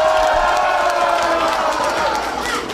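Crowd at a Kaohsiung mayor's political rally at a Hsinchu party office cheering and applauding, a dense sustained roar of many voices that stays loud throughout and fades slightly at the end.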